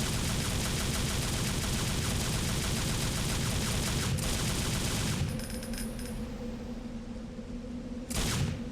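Dense, sustained gunfire from the video game Devil May Cry rattles on loud for about five seconds, then drops to a quieter background with a last sharp burst near the end.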